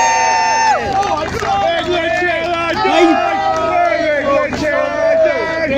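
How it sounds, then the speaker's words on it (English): A large crowd at a political campaign rally in Preston, with steady cheering, whooping and babble filling the space throughout, loud and close with shifting musical tones layered over the noise. "What a crowd, it's brilliant, man."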